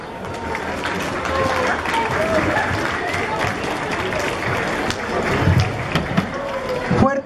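Applause from a crowd at a school time capsule ceremony at a telesecundaria, as the capsule is closed and carried to its place; steady clapping with voices and crowd bustle mixed in, swelling near the end.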